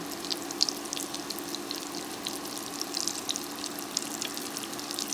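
Chicken nuggets frying in a pan of oil, a steady close crackling sizzle with scattered pops running throughout, no voices.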